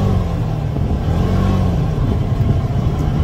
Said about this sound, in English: I'm going to give it some throttle.